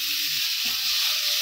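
Eggplant pieces frying in hot oil give a steady, close sizzle with a bright hiss that holds evenly and never stops, with no voices over it.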